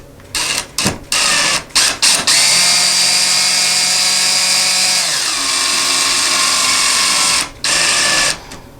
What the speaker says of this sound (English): let's drill it with the electric drill.